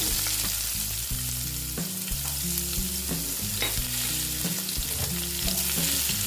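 Onions frying in a pan with black cumin (nigella seeds) for a rohu fish mustard-poppy curry give a steady sizzle throughout, partly masked by continuous background music.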